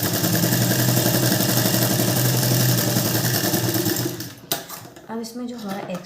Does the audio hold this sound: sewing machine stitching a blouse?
yes